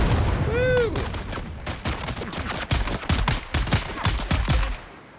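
Rapid bursts of gunfire crack through a video game battle in Dune, with repeated sharp shots loud and close over a dense, noisy background, plus a brief voice exclamation.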